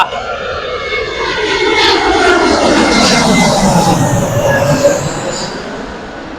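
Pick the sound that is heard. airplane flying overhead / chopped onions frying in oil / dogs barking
airplane flying overhead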